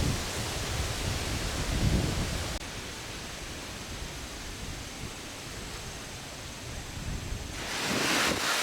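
Steady wind on a cold 48-degree day in West Jefferson, North Carolina roars across the microphone in a broad, unbroken rush, slightly louder at the start and end, with no voices.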